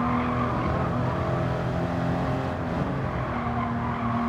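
Race car tires squeal and skid through a corner slide on the Nordschleife in Gran Turismo 7, a sustained loud screech over steady engine drone without pause.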